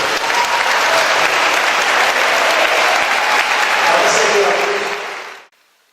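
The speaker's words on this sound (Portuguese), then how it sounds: "Dê uma salva de palmas para Jesus." A church congregation applauds loudly and continuously, a dense wash of many hands clapping close by that holds for about five seconds and then cuts off abruptly.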